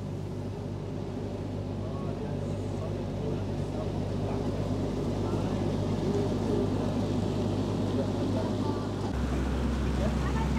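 A steady motorboat engine drones loudly and continuously on Lake Chiemsee, its low rumble shifting pitch near the end.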